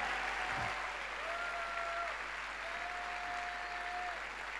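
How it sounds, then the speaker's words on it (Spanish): A congregation at a Sunday evening church service gives steady, continuous applause for Christ, a dense even clatter with faint sustained tones, probably music or voices, drifting underneath. "Dale un aplauso al Cristo de la gloria"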